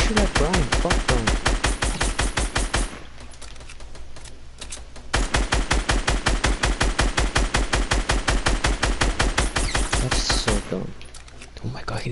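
Rapid automatic gunfire in a video game, bursts of fast, loud shots over several seconds with brief pauses between, while players talk over it.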